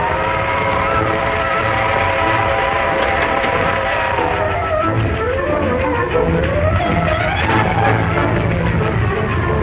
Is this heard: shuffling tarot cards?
no